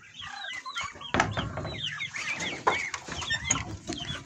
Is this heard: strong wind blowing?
no